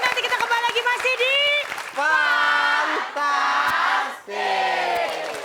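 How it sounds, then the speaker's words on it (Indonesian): A studio audience on an Indonesian TV variety show cheers and whoops in loud, rising bursts, with shouting voices and clapping layered together in several waves. "kita kasih tepuk tangan buat Wendy, Tata, Dana, dan juga Pati"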